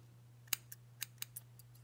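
Scissors snip through a tassel cord in several quick, crisp cuts, one sharper than the rest, over a low steady hum in an otherwise quiet room.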